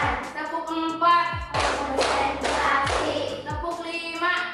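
Fifth-grade classroom in a rhythmic clapping game, with bursts of children's hand claps in counted groups alternating with short spoken call-and-response cues, close and fairly loud.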